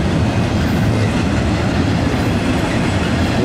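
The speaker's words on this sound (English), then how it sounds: "Crofton Yard, Jersey City train." A Norfolk Southern intermodal freight train with stacked containers and trailers rolls past. It gives a loud, continuous rumble with steady clickety-clack of wheels over rail joints and no talk.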